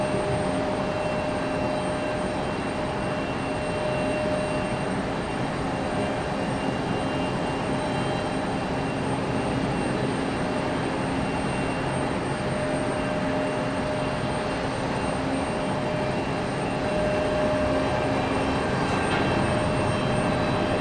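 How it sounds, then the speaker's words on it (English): JetBlue jet airliner taxiing out at Raleigh-Durham airport, a steady broadband jet engine rumble and whine held at constant loudness for about twenty seconds, heard from a distance with no talking. "JetBlue finally getting a move on that one, sitting out there for quite some time."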